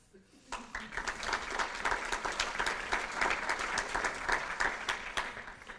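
Steady applause from an audience at a French-language gathering, dense continuous clapping that fills the room for several seconds, moderately distant, with faint voices underneath.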